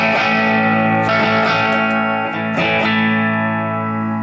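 Electric guitar played through a Marshall Origin 20 amp on its clean channel with the foot-switched boost engaged, loud sustained chords ringing out with a few fresh strums and rich overtones.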